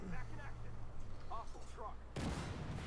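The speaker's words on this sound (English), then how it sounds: "As rounds are ricocheting off of you right, left, and sideways." Tank cannon fire and rounds striking armour in the war game Armored Warfare: dense overlapping battle noise, with a sharp loud blast near the end, under a voice heard in the background.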